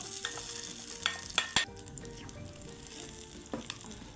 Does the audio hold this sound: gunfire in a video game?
no